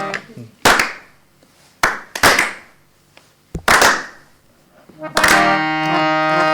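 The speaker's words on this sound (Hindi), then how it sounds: "जी जी ताली साथ में बजेगा। जी। बजाइए ताली।" A group claps in sharp, spaced bursts during a performance of a slow-tempo Sua folk song, a few loud claps separated by pauses, then a singing voice enters near the end.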